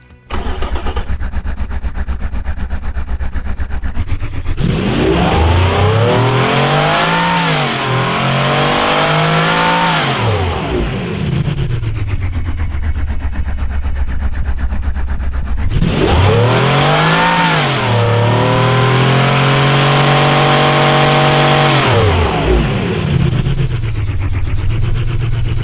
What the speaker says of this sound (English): This is the naturally aspirated 4 valves per cylinder setup.